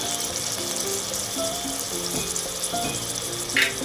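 Chopped tomato goes into a pan of frying boiled potatoes, bringing a continuous close sizzle and bubbling hiss, with a short louder burst near the end.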